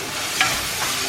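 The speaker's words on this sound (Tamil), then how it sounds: "இதை வந்து அகெயின் ஒரு நிமிஷம் வதக்கிடுங்க." Onion, tomato, coriander powder and other spice powders sautéing in a pan for dried-fish kuzhambu, giving a loud, steady sizzle with a brief scrape of the stirring spoon.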